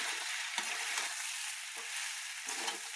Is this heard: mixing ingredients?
yes